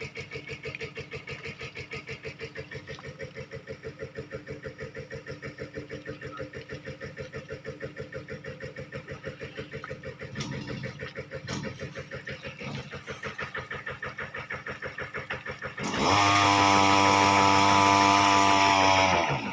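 An engine-driven water pump drains water from a fish pond, a steady chugging mechanical drone that holds an even beat, then turns sharply louder and higher as the engine revs up near the end.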